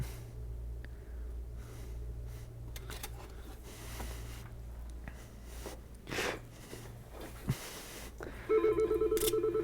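A telephone rings for an incoming call at an electronics repair bench, a rapid trilling ring starting near the end after quieter bench noises and a steady low hum.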